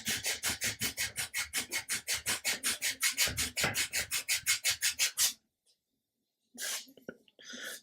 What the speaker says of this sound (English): what I want to do is just smooth off these edges